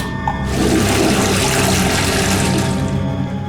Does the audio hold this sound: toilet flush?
yes